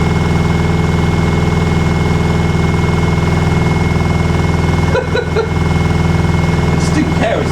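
A Beko WTL64051S inverter washing machine spins at high speed around 1200 rpm, giving a loud, steady drone with a constant hum and a brief dip partway through.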